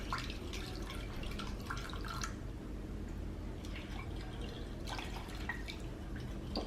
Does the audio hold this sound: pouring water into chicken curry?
yes